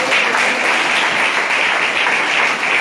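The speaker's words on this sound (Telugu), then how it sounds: "ఒకసారి చప్పట్లు కొడుతూ దేవుని నామాన్ని" A church congregation clapping hands together during a service while praising God's name, loud, dense and continuous applause throughout.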